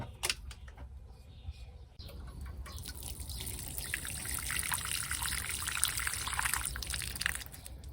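A potted plant being given a thorough soaking from a watering can, steady pouring and trickling of water into soil that starts quietly and swells into a continuous close splash for most of the stretch.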